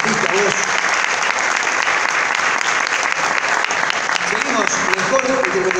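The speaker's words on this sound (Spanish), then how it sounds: "El aplauso para Nadia" An audience at the Premios Romeo Gavioli 2019 awards ceremony applauds, a dense, steady clapping that fills the hall from start to finish.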